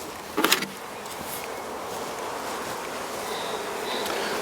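A dense, steady swarm buzz of honey bees fills the air during a transfer from a nuc box into a hive, with a brief clunk near the start and no talking.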